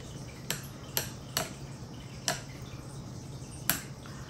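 Pork shabu shabu pasta salad being mixed with utensils, giving a few sharp, separate clinks and taps at an irregular pace over a low, steady background hum.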